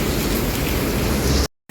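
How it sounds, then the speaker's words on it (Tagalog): Heavy rain in Camarines Norte pours down as a dense, loud, steady hiss and patter, then cuts off abruptly to silence near the end. "ang lakas na naman ng ulan"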